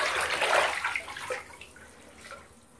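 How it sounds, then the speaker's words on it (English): A bath bomb fizzing as it is stirred into bath water, with close sloshing and swirling water that fades into a softer hiss. "let me stir it all in really good. I still have a little bit more bomb going off."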